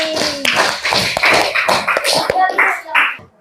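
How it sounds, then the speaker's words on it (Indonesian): Close, uneven clapping from a small group honours a guardian at the end of a school lesson. The claps come in irregular bursts, mixed with murmured voices, and taper off after about three seconds. "Beri tepuk tangan kepada Wali"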